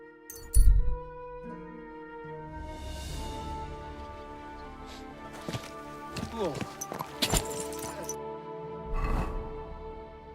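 A horse's hooves clip-clop in the medieval video game Kingdom Come Deliverance 2, irregular thuds and clatters under sustained music and soft voices, with a sharp knock at the start.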